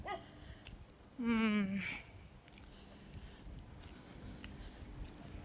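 A dog gives one drawn-out, yelping bark close by, while people talk quietly before and after it.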